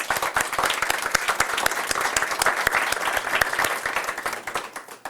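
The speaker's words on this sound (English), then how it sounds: "So I think he also needs a big round of applause." A school board meeting audience gives a big round of applause, dense steady clapping from many hands filling the room throughout, with no talking.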